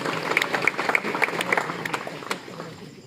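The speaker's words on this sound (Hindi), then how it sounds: "एक बार ताली बजाकर आप आशीर्वाद दीजिए।" An audience at a Hindi kavi sammelan poetry gathering in Nagar Panchayat Tundla breaks into steady, dense clapping that carries through the moment before gradually thinning out.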